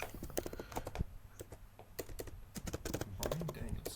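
Steady clicking of keys on a computer keyboard during a two-man wrestling podcast, quiet and irregular, with rapid bursts of keystrokes across the whole stretch.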